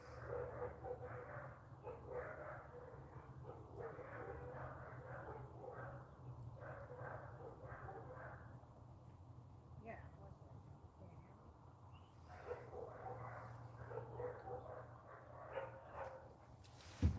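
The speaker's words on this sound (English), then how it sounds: "Dog's going crazy, huh?" A dog barks repeatedly in irregular bursts, somewhat distant and fairly faint, under a low steady hum, with a pause partway before the barking resumes.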